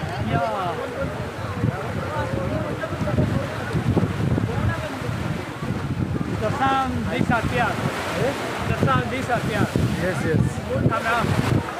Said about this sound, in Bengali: দেখতে পাচ্ছেন, এখানে পুরো জল আসছে।